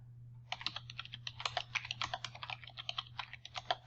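Rapid, irregular keystrokes on a computer keyboard while a name and title are entered for a cosmetic and implant dentistry description, close and fairly quiet over a low steady hum, with no voices.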